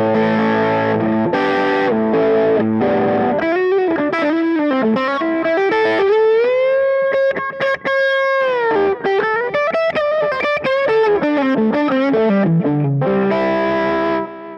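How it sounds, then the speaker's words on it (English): Electric guitar played through an EP Booster-style booster pedal pushed into creamy distortion with delay added, sustained melodic lines and ringing held notes with echo trails, loud and close with no talking. "See, I add a little delay."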